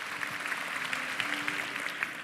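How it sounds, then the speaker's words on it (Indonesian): A church congregation at a GMS Church service claps together in a steady, fairly soft wash of applause, with a few sharper claps standing out. A faint sustained tone runs underneath. "Berikan tepuk tangan bagi Tuhan Yesus Kristus."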